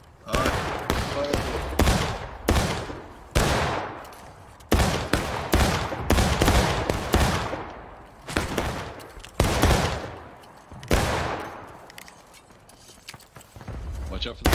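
Musket fire in the video game War of Rights rings out as repeated loud, ragged volleys of overlapping shots from many players, near and distant, with voices talking between the bursts.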